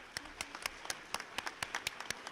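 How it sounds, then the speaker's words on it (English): Clapping from a small audience at a high school senior awards night, sparse and distinct individual claps scattered irregularly, fairly quiet and near. "I want to give you guys a round of applause"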